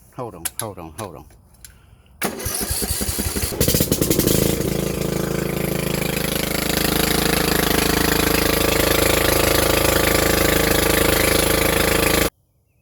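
A smoky lawnmower engine is pulled over a few times, then fires and runs at a loud, steady, rattling roar for about ten seconds before cutting off abruptly.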